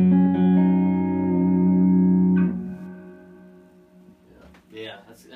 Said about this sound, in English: The reverb's really nice,